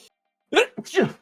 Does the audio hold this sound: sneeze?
yes